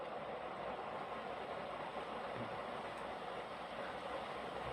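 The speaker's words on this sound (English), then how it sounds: "The boxcar is actually moving." A train boxcar rolls along rails in the video game Teardown, a steady low rumble of wheels on track that continues evenly throughout at moderate distance.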